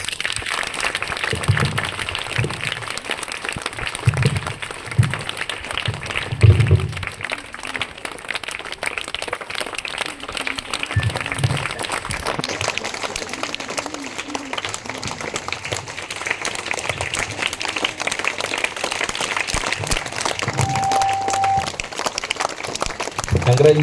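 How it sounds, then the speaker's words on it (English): An audience applauds prize winners at a Vision School event in Yadiki, with bursts of clapping and crowd noise rising and falling across the span, mixed with background voices and a busy hall ambience. "Give them huge round of applause."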